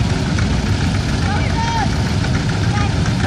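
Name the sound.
engine of a vintage 10 horsepower EK Bolin tractor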